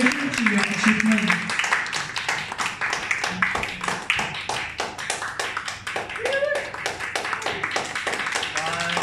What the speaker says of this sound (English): Please give her a round of applause and congratulations to your achievement.